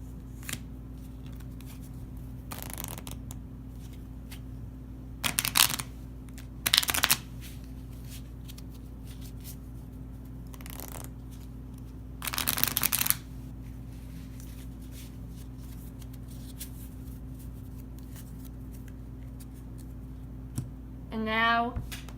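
Several short bursts of playing cards being riffle-shuffled during an Exploding Kittens card game, scattered over a quiet background hum, with a brief whirring sound near the end.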